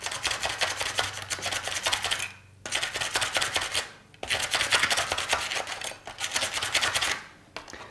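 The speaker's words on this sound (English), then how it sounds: "So ideally you pop it off and then you use sandpaper." Sandpaper rubbed by hand across a shiny hard drive platter to scratch it up, heard as three long stretches of fast, rhythmic rasping strokes separated by short pauses, close and fairly loud, with no talking.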